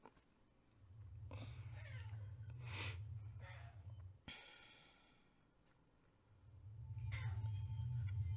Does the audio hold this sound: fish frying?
no